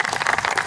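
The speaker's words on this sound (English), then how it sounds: "let's give them a round of applause" Audience at an inaugural meeting of the Jamestown Jammers applauds, a brief burst of dense, even clapping at steady loudness with no voices.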